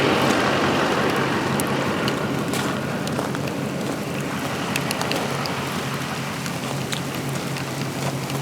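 Steady hail and rain pour down outdoors around an old mine at the Elkhorn ghost town, a dense continuous patter with scattered sharper ticks of hailstones, even and fairly close throughout.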